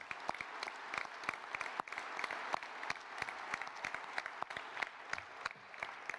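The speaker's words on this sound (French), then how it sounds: "c'est de vous demander de vous applaudir les uns les autres" Audience at an association's general assembly applauding one another, steady dense clapping from a sizeable crowd filling the room for several seconds at moderate level.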